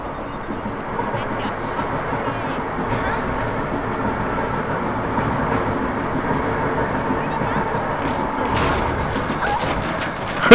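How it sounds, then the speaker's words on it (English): A train passes in the Metal Gear Rising video game as a steady, loud, broad rumble that holds for the whole stretch and swells slightly near the end. "Train."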